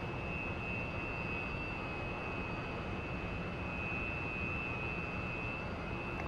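Su-27 jet engine in the DCS flight simulator game, a loud continuous roaring whine with a steady high tone, unbroken throughout and with no voices.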